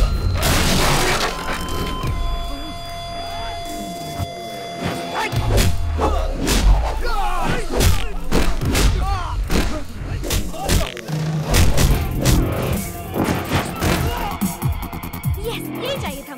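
Punches and thuds land in a fight scene from a Hindi-dubbed romantic film, with heavy impacts and whooshes in quick succession alongside shouting voices.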